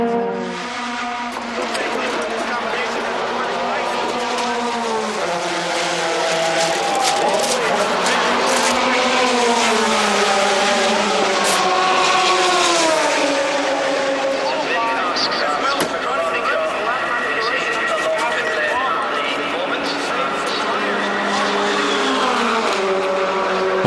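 A 009 Aston Martin race car dives into the pits at an American Le Mans Series race in 2006, its engine note bending down and up steadily throughout, heard with a voice talking over it.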